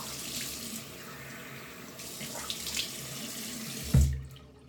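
A bathroom sink tap runs steadily while a face cleanser is rinsed off, close and moderately quiet, with some splashing and shifting. The flow is shut off with a clunk near the end.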